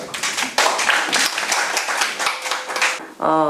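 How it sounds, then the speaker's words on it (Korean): Dense, loud clapping from an audience at a gathering of university hospital workers, steady for about three seconds before a voice comes in near the end. "박수 한번 쳐주시기 바랍니다."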